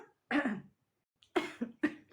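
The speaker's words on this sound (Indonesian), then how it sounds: "ya masih batuk sama nih" Three separate coughs from one person, close and fairly loud, each a short harsh burst with brief pauses between them, with no talking.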